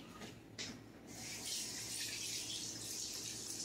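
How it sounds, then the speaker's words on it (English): Hands are rinsed under a running kitchen tap, a steady broad rush of water at moderate level that starts after a brief clatter and continues to the end, with no talking. "I've got to rinse my hands off."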